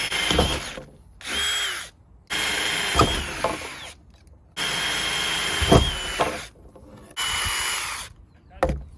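Power drill driving self-tapping screws to mount a wheel light on a truck, several loud close whirring bursts separated by short pauses, with faint clanks between them.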